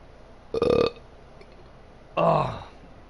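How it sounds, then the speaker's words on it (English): Two loud, close burps from a man, each under a second long, separated by a short pause, with no talking around them. "it makes you want to burp"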